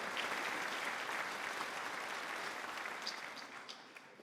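Audience applause at a political event in Venezuela, steady sustained clapping from a large crowd at moderate volume, fading gently near the end.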